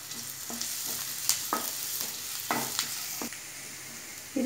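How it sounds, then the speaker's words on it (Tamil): Garlic frying in hot oil for a mushroom pepper fry, a steady close sizzle broken by occasional stirring scrapes and pops, with no talking. "இது எண்ணெயில் வந்து இந்த கொஞ்சம் ஃப்ரை ஆகணும்."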